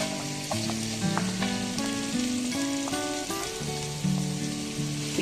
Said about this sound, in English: We'll just saute the garlic for 2 to 3 seconds.